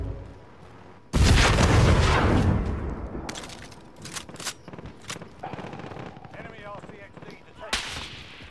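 A sudden loud burst of gunfire and a rumbling blast in Call of Duty: Modern Warfare multiplayer, followed by scattered sharper shots and impacts fading off over several seconds.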